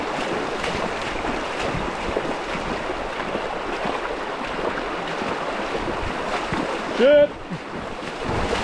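A hiker wades knee-deep through the Cobb River in rain, with loud, steady rushing and splashing water and wind buffeting close by. A man's brief exclamation comes near the end.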